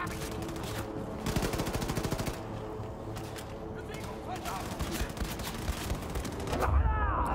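Rapid, wild gunfire from the shooter Wolfenstein II: The New Colossus, with repeated bursts of automatic shots in clusters, loud and close, and a sharper metallic clatter at the end.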